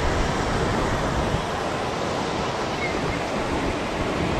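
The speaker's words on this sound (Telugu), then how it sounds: "ప్రశాంతంగా అలల సౌండ్ మాత్రమే వినిపిస్తుంది." Sea waves washing onto the beach at Gokarna, Karnataka, form a steady, dense roar of surf that stays even throughout, with no distinct breaks standing out and no voices.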